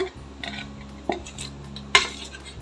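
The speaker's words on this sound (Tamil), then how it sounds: "மாவு வந்து கொஞ்சம் கொஞ்சமாக கொட்டி கலந்துக்கோங்க" Flour is stirred into jaggery syrup in a pot for adhirasam, with a spoon scraping and clinking against the metal vessel in a few distinct knocks over a low background hum.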